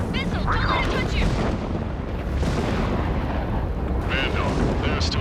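Missiles and explosions in the Ace Combat 7 air combat game, dense continuous rumbling blasts and booms with roaring jet noise, loud throughout, mixed with radio voice chatter.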